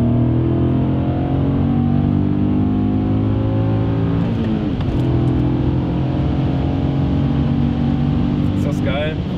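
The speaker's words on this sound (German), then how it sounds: "jetzt hört einfach zu, wie geil es klingt, wenn er einfach ausdreht, wie bissig das Ding ist." A 1999 BMW E39 M5 with its S62 V8 revs hard in sport mode, a loud, continuous engine roar climbing in pitch through the gears as the car accelerates, close up with someone talking over it.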